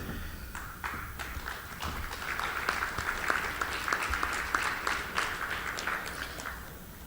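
Conference audience at an award presentation claps in a broad, steady wave that swells in the middle and tapers slightly, with sharp individual claps standing out from the crowd.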